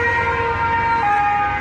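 An ambulance siren wails on a street in Nice, France, a loud, steady tone that shifts pitch partway through, with traffic noise beneath it.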